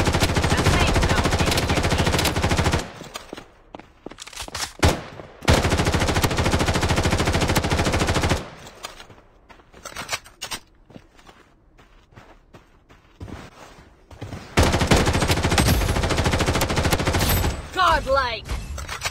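Automatic weapons fire in bursts in the battle-royale shooter Blood Strike: long, loud sprays of rapid shots alternate with quieter gaps filled with footsteps and handling sounds, and a game voice calls out between bursts.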